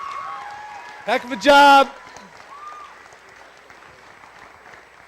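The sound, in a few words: crowd applause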